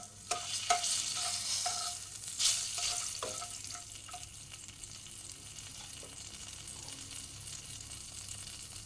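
A bay leaf hits hot oil in a pan while cooking Bengali soyabean dishes, sizzling and crackling with a few sharp pops and stirring scrapes early on, then settling into a steady frying hiss.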